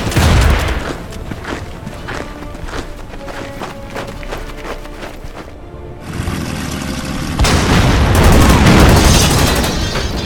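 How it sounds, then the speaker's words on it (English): A loud wartime battle from the Order of Battle: Panzerkrieg strategy game as a short-barreled artillery gun is destroyed, with booms and rattling gunfire over a dense roar that swells louder near the end. "They just destroyed our short-barreled artillery gun there."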